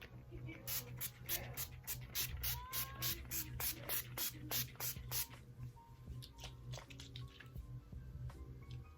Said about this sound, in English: You want to shake it up a few times and then spray your face.